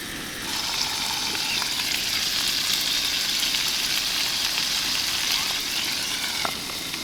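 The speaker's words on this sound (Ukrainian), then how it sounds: "Шкварчить." Steady, dense sizzling of steak frying in a hot pan, a continuous crackling hiss throughout, close up and without speech.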